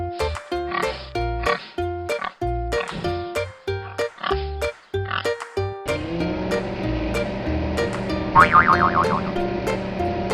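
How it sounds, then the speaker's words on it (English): A cartoon pig oinks over bouncy children's music, its short squeals and grunts mixed into the jingle rather than standing alone. "Pig."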